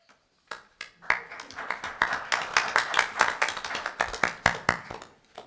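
Audience at a township board meeting applauding, a burst of close hand clapping from a modest crowd that builds quickly and stays dense with sharp individual claps standing out throughout.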